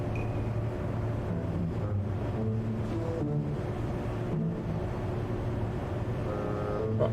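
A spacecraft engine running in the video game Kerbal Space Program gives a steady, moderately quiet low drone with shifting tonal hums layered over it, and no voices.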